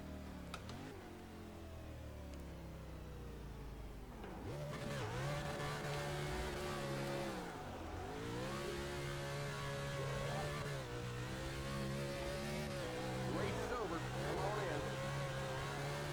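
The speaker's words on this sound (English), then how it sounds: "Let's just see how far we can take this burnout." A stock race car in NASCAR Racing 2003 at Michigan Speedway does a burnout, its engine revving hard in rising and falling sweeps with a loud sustained roar and tire noise, while someone talks over it.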